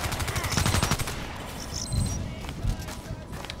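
Rapid automatic gunfire in the online shooter Contract Wars, with dense bursts of shots mixed with game effects and rock music underneath, loud and continuous throughout.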